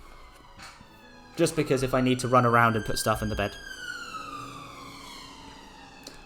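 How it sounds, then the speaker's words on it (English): An ambulance siren passes outside near a hospital, its wailing tone rising and sliding over several seconds, loud at first then trailing off, while someone talks over the start. "you'll hear a lot of ambulances in the background"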